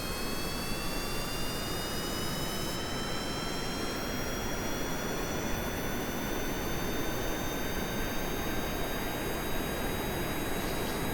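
Rocket engines fire for takeoff in Kerbal Space Program, a steady, loud, broadband roar that holds unbroken throughout, with faint rising whine tones layered above and no talk.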